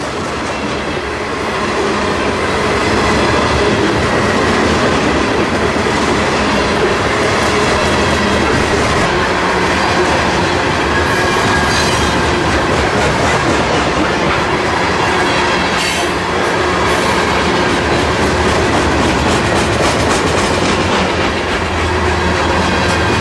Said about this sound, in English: B207 is unit phosphate loads out of Mulberry, Florida in the Bone Valley and bound for Cicero, Illinois, Chicago.